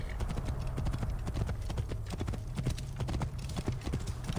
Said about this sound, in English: Love that sound that the horse is making.